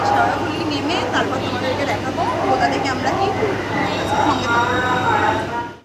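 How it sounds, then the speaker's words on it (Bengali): A train bound for Sheoraphuli station rumbles along with a steady low drone and rattling, while voices talk nearby over the noise. "ট্রেনে উঠে পড়েছি এই যে দেখতে পাচ্ছ ট্রেন দেখো"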